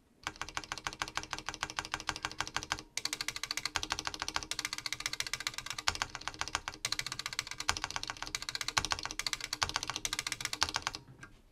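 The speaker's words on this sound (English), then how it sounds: "Here we have the stabilizer that we just lubed and clipped." Rapid, steady clacking of a mechanical keyboard with lubed and clipped stabilizers, continuous close typing with two brief pauses and no talk.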